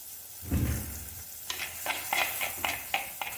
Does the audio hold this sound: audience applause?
no